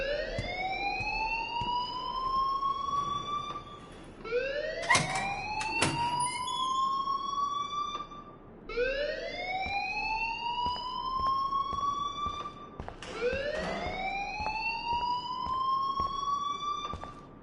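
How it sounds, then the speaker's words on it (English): A school alarm in the Life is Strange video game wails in repeated rising siren sweeps, about four loud cycles, broken by a couple of sharp clanks partway through, with no talking. "please turn off that alarm since that's your job"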